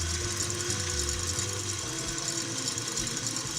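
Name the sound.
electric stand mixer beating egg whites with sugar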